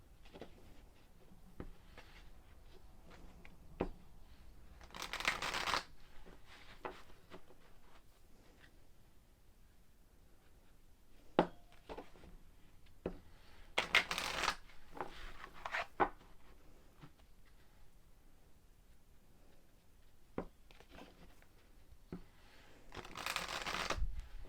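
Tarot cards are shuffled in several short riffling bursts, close and fairly soft, separated by quieter stretches of scattered taps and card handling.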